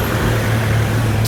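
A Lamborghini arrives along a street in Juan-les-Pins, its engine a steady, even drone that holds without a clear rev or pass-by.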